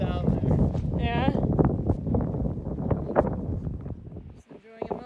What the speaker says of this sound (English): The wind's been blasting us head on the whole time